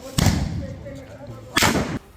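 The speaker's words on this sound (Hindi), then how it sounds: "कुछ लोग माखी गांव में उनके घर के बाहर पटाखे जलाते नजर आए।" Firecrackers being set off outside a house in Makhi village, heard as two loud, sharp bursts a little over a second apart, each with a crackling tail, against faint background noise.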